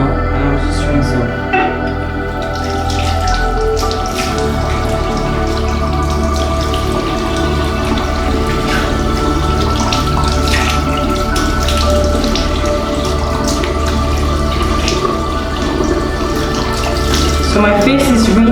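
Tap water runs steadily into a sink while someone splashes and rinses their face, a close, continuous wash of flowing and splattering water with no talk.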